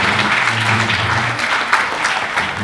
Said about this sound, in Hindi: एक बार जोरदार तालियों से इनका स्वागत करिए।